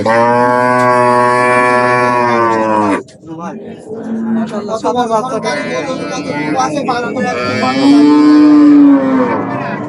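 Cattle at a rural livestock market in Bangladesh, including dairy cows, give a long loud moo at the start and another later, with people talking in between.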